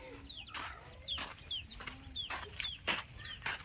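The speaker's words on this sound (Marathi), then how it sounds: "कोंबडा" Chickens cluck and cheep in quick repeated calls close by, with a steady background hum and no talking.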